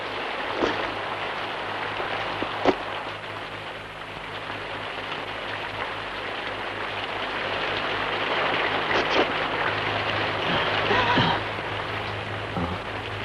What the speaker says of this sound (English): Can we wait here till the rain stops?